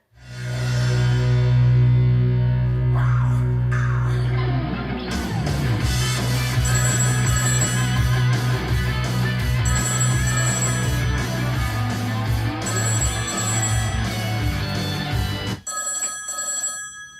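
A telephone rings with a steady electronic bell tone, loud and close, repeating for several seconds over a dense, busy background before cutting off near the end.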